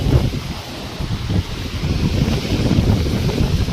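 Strong sea waves breaking at the shore during the monsoon, a continuous rough roar of surf mixed with gusting wind buffeting the microphone, loud and close.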